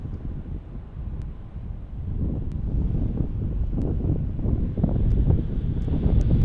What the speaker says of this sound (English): it's starting to get pretty windy